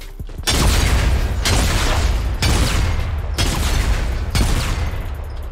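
Gunfire in the video game Fortnite as a player shoots a mine: five loud, close bursts of shots about one second apart over a steady rumbling game background, with no voices.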